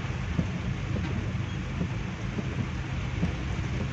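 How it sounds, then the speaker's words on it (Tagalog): Heavy rain pours steadily outdoors, a broad, constant roaring wash with no break, heard without any talking. "so lalong lumakas ang ulan guys"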